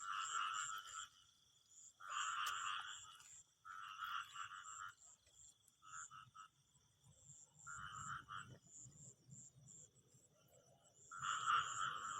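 Frogs croaking at night in rural Isan farmland, loud rhythmic bursts of croaks repeating in clusters close by, with quiet pauses and insects faint underneath.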